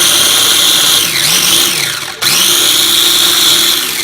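A kitchen blender whirs loudly close by, chopping about two cups of fresh basil for pesto sauce, with a steady motor whine that dips briefly as the load shifts and then surges back up.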